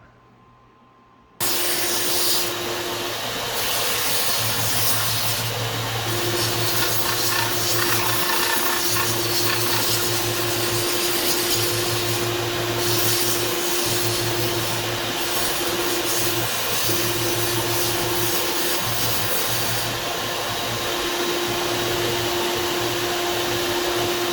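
A steady, loud power-tool whine runs continuously for over twenty seconds after a brief quiet start, with a constant hum and gritty broadband noise as a wooden tobacco pipe is sanded.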